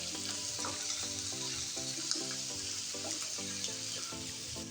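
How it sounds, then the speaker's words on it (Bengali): Spiced chuna kumra pumpkin, seasoned with turmeric, salt and coriander powder, sizzles steadily in a pan while a utensil stirs it in a regular scraping rhythm, close and continuous with no talking. "এখন নেড়ে ছেড়ে ভালো করে মিশিয়ে দেবো।"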